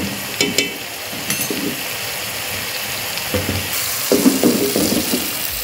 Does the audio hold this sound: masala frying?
yes